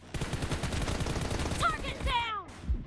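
Rapid bursts of video-game gunfire crackle close and loud as a player shoots at a bot in a multiplayer deathmatch, with sharp whistling ricochet-like tones near the end.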